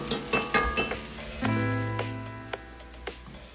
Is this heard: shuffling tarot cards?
no